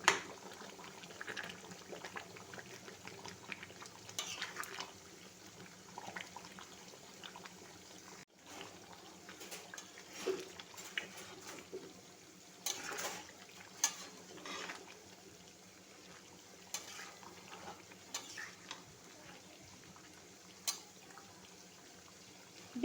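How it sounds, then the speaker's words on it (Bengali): Kashmiri chicken masala being stirred in a pan after a special spice mix goes in, a soft continuous scraping and bubbling sizzle with scattered louder clinks, low and steady throughout, no voices. "মশলাটি দিয়ে ভালো করে নাড়াচাড়া করে নিতে হবে।"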